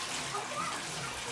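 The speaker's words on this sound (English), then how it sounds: "Mom's over here starting the bath water." Bath water runs from the tap into a tub as a steady, soft rushing hiss, faint and continuous throughout, with a quiet voice in the background.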